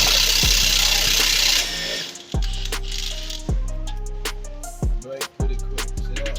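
Ratchet wrench working loose the sway bar link nut on a 2015 Chrysler 200 Limited, a run of sharp metallic clicks and clanks in uneven bursts, close and fairly loud, with no talking.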